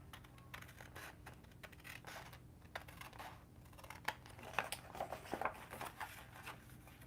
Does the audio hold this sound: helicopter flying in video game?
no